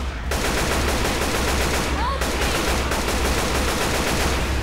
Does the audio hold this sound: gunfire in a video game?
yes